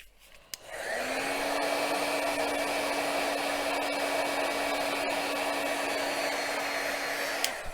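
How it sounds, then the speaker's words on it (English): A heat tool runs steadily, drying ink on a craft card. After a brief click it starts and holds a loud, constant whooshing hum with a thin whine for several seconds, then cuts off. "let's just dry that with the heat tool"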